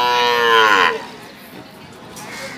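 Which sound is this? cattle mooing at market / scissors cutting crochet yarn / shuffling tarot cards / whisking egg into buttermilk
cattle mooing at market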